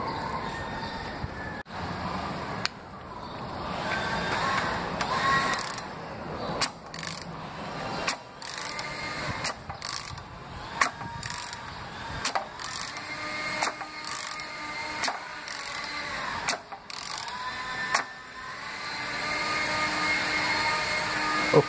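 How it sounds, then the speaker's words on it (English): A Toyota 1MZ-FE 3.0-liter VVT-i V6 camshaft being turned by hand, giving repeated light mechanical clicks and ratcheting ticks close by, with no talk. "So let's go spin this camshaft."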